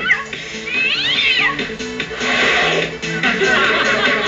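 Cat meowing sound effect, several loud drawn-out meows with rising and falling pitch over a low musical backing.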